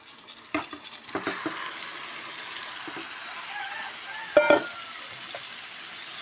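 Yogurt, salt and pepper marinated chicken going into a hot pan for chicken kurma, giving a steady close sizzle with a few stirring clinks and scrapes at the start and a brief clatter near the end.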